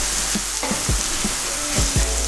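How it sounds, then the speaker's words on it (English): Paneer bhurji with red chili powder and turmeric stirred in a hot frying pan: a steady sizzle with a few scraping strokes of the spoon against the pan. "Just give it a stir."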